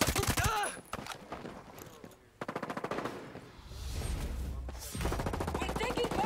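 Rapid bursts of automatic gunfire from the military shooter game Ghost Recon Breakpoint, dense and loud, with a brief lull near the middle before volleys resume, mixed with faint in-game voices.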